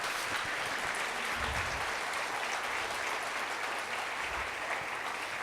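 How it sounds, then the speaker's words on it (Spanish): A church congregation applauding, a dense, steady wash of many hands clapping that carries evenly throughout, a little distant. "Vamos a dar un aplauso a nuestro Señor"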